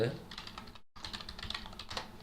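Close, rapid typing on a computer keyboard as a command is entered, a fast uneven run of key clicks broken by a brief pause, with faint talk underneath.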